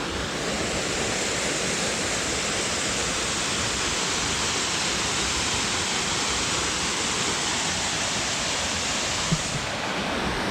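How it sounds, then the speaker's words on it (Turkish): The Sütüven waterfall in the Kaz Mountains, Turkey, roars in a steady, dense rush of white noise, constant and enveloping from start to finish. "Evet şöyle bir şelaleye bakalım önce."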